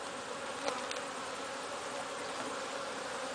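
Honey bees hum in a dense, continuous drone as a beehive is opened for inspection, a close steady swarm with a faint extra buzz passing briefly near the start.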